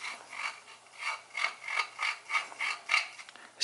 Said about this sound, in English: I can just screw it right in there